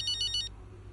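A phone rings in the video game F1 25, a short bright electronic trill of repeating pulses for about half a second, then a low steady hum.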